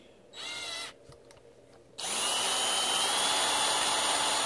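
A power drill spins a case trimmer on .223 brass cases: a short whirring burst, a pause, then a loud, steady high-pitched whine that runs to the end, close by with no talking.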